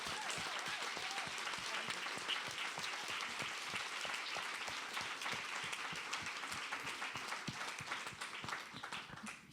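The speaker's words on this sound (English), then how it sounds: "Let's give Sonia another round of applause" Audience applause at an art talk: a steady wash of clapping from a crowd, sustained and fairly distant, tapering slightly toward the end.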